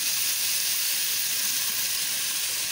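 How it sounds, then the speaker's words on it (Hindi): Onions frying with ginger and garlic for khichdi, a close, steady hiss of sizzling oil with no pauses. "तो ये प्याज हमारी फ्राई है"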